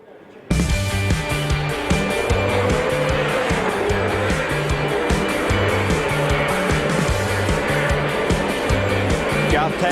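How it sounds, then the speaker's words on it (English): V8 Supercar race cars roar past on the Surfers Paradise street circuit at the 2007 championship round, a loud, sustained multi-engine drone with gear-change pulses that begins abruptly and continues without a break. "Jason Bright has given the wall a whack on the exit of turn 1"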